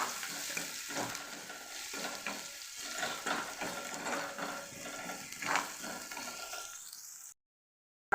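Onion with ginger-garlic-cumin paste and green chillies sautéing in a pan for a cauliflower and peas curry makes a steady sizzle broken by scraping stirs, then cuts off abruptly near the end.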